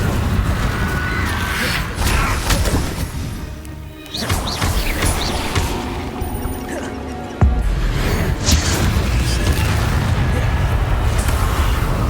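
Incendio fire spell cast in Hogwarts Legacy, a loud fiery burst with booming, crashing impacts amid continuous game combat noise, with a sharp heavy hit partway through.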